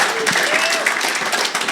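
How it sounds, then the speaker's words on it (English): A conference audience briefly applauds a presenter named Mitch, a short burst of clapping blended with murmuring voices and some talking. "Everyone give Mitch a round of applause."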